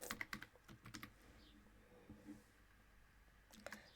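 Fingers type on a computer keyboard in quick, uneven bursts of soft clicks with short pauses between, quiet and close.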